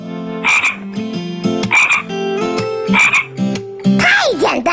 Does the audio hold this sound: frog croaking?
yes